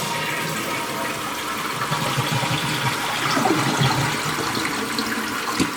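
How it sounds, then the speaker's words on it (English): A household toilet runs a large flush, a steady rushing wash of water that holds evenly for several seconds without any voices. "now we're going to hit the large flush button"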